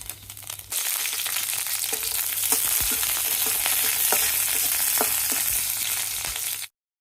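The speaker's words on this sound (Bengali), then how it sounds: "এই যে নামিয়ে পেঁয়াজ মরিচ ভেজে নেব" Onions and chillies frying in a pan: a loud, close, continuous sizzle with intermittent scraping and crunching stirs, stopping abruptly near the end.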